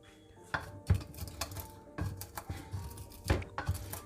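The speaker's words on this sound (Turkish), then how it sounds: "Burada mikser kullanmıyorum. Kaşıkla karıştırıyorum." A spoon clinks and scrapes against a bowl in quick irregular strokes, close up, with no talking, hand-mixing a Greek cheese meze with walnuts.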